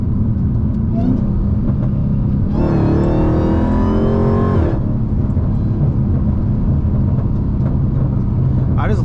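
A Dodge Challenger Hellcat roars hard for about two seconds, its engine note climbing under acceleration, then drops back to a steady low rumble of road and cabin noise.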